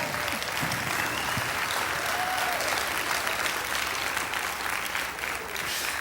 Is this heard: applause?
yes